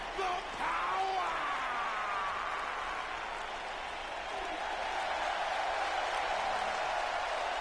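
Crowd applause and cheering in the WWE 2K19 wrestling video game, a steady wash of clapping and crowd noise that holds at a constant level from start to finish.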